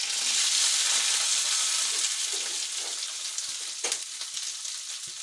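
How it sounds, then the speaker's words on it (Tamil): Curry leaves and onions frying in hot oil give a loud, steady sizzle that fades a little toward the end, with a few brief sharper crackles and pops; no one speaks. "ஒரு 4-5 கருவேப்பிலை போட்டுக்கலாம். அப்புறம் இந்த வெங்காயம் போட்டுடணும்."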